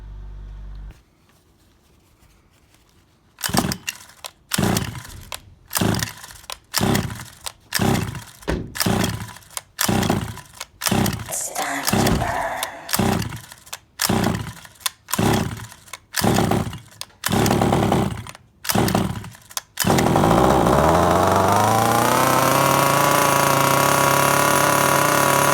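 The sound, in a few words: Rovan Baja 5B RC car gas engine starting and running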